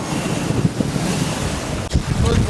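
Big ocean waves surge and wash against a sailboat at sea in rough conditions, while strong wind roars and buffets the microphone in a loud, continuous rush.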